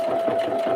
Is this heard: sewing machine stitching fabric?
yes